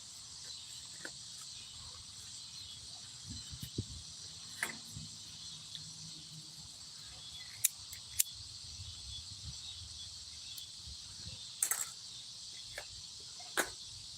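A steady, high-pitched buzzing drone of cicadas by a creek fills the background, faint and continuous, with a few scattered clicks and light knocks nearby.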